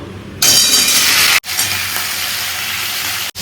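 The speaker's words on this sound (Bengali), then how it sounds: "একসাথে আলু আর পটল ভেজে নেবো" Potatoes and pointed gourd fry together in a pan, a loud sizzle bursting in as they hit the hot oil and then settling into a steady hiss, broken by two brief gaps.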